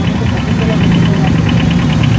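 Two motorbikes at a road-safety motorcycle rally run by the Ghatal subdivision administration and transport department, their engines idling and rumbling steadily and loudly close by throughout, with a low mid-pitched throb.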